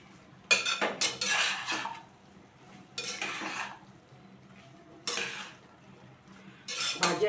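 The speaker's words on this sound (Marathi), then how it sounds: "भाजी अशी चांगली हलवून घ्यायची" A spatula stirs vegetable bhaji in a metal pan in several short bursts of scraping and clinking, with quiet gaps between strokes and no talk.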